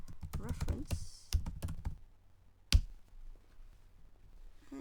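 Keys tapped on a computer keyboard while a spreadsheet formula is entered, a quick burst of clicks early on, then a few isolated taps, with speech alongside.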